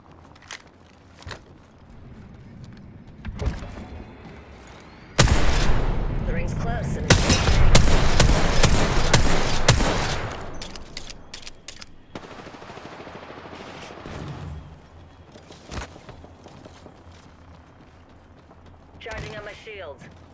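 Video game gunfire: sparse isolated shots, then a loud sustained stretch of rapid automatic fire lasting several seconds, followed by quieter sporadic shots with occasional speech mixed in.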